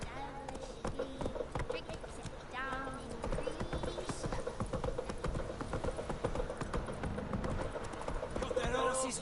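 The horse Roach trots in The Witcher 3 with a steady rhythm of clip-clop hoofbeats close by, under a busy game soundscape with voices talking over it and a brief whinny.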